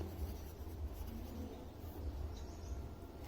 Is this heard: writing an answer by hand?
yes